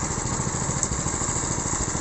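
A small Thai walking tractor engine runs steadily and close by with a rough, buzzing putter, loud and unbroken with no talk over it.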